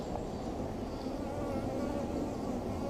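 Honeybees drone steadily in an opened backyard beehive during a brood inspection, a continuous close buzzing hum with no pauses.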